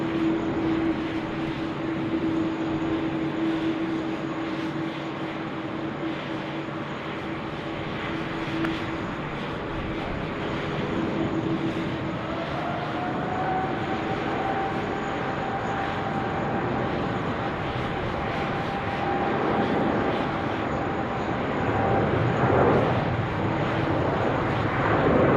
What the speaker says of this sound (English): Emirates 9822, runway 16 right, clear for takeoff